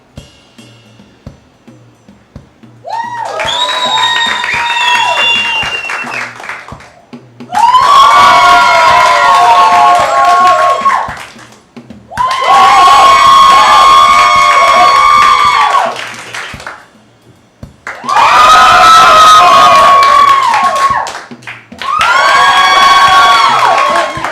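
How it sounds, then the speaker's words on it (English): Improv comedy show audience cheering, shouting and clapping in four separate loud bursts to vote, each roar rising sharply with whoops and screams and then dropping to near silence between rounds. "Clap the loudest, obviously, for the one that you want to win."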